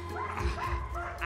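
A dog barks and yips in short bursts during off-leash bite training with a decoy, close and fairly loud, with a voice faintly under it.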